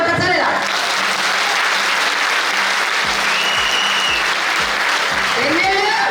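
Dense applause from an audience at a motivational program, loud and sustained throughout, with a speaker's voice briefly over it at the start and near the end.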